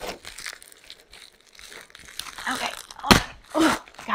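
Tape peels noisily off the packaging of an iDOO 10-pod indoor hydroponics growing system (model IG303) during unboxing, with crinkling rustles building to a loud, sharp ripping tear and another tear right after.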